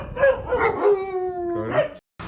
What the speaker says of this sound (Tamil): இந்த நாய்க்குட்டி பிரவீனனோட தான்.